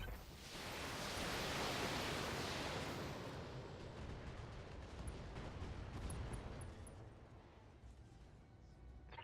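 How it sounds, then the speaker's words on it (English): In the BattleTech mech combat game, a mech's ammunition cooks off in a broad, roaring blast that swells quickly, then decays into a long rumbling wash; the whole event is faint and distant. "ammo explosion finishes it off"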